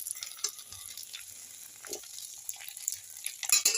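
A leftover-rice snack fries in oil in a kadhai, a soft steady sizzle with scattered crackles. A spatula scrapes and turns it over, giving brief louder scuffs near the end.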